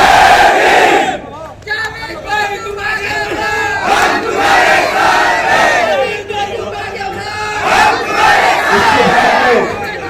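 A political street-corner meeting crowd shouts slogans in unison, loud bursts of massed voices answering a leader's rallying calls, rising and falling several times over steady crowd noise.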